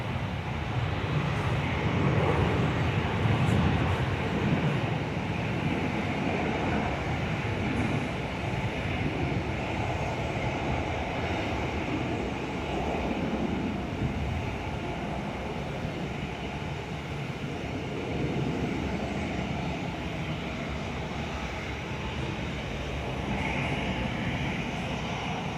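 A Velocity airliner with split scimitar winglets rolls for takeoff at Perth, its jet engines making a continuous, fairly distant broadband roar that holds steady throughout without voices.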